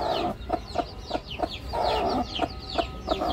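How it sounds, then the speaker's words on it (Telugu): A hen and her newly hatched chicks cluck close by in a rainy rural setting, with a steady run of short, rhythmic clucks and soft peeps over a constant background hiss. "చూడండి ఫ్రెండ్స్, ఒక పిల్ల అయితే వచ్చింది బయటికి"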